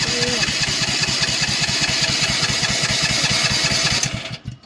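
Bucket truck engine with the choke pushed down cranking and catching into a steady, rapid chugging run that drops away abruptly at the end, close and loud.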